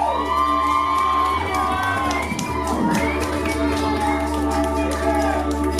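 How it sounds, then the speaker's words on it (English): A crowd at a band concert in Ireland cheering and whooping loudly, with shouts rising and falling and some scattered clapping mixed in. "can we get a round of applause for the rest of the bands that play tonight?"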